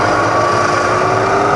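A Bridgeport milling machine runs in low range with a steady, loud motor drone and whine that holds constant throughout, with no talk.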